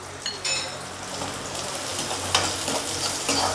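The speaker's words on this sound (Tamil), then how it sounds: "கடுகு பொரிஞ்சதும் பொடியாக கட் பண்ணி வச்சுருக்க வெங்காயத்தை சேர்த்துக்கலாம் இது கூடவே ரெண்டு மூணு கருவேப்பிலை இலையும் சேர்த்துக்கலாம்" Chopped onions and curry leaves hit hot oil right after mustard seeds pop in a tempering for coconut chutney, giving a steady close sizzle and frying hiss with faint stirring and a few light pan clinks.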